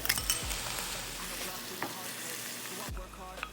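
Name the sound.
stir-frying vegetable japchae noodles with sauce in pan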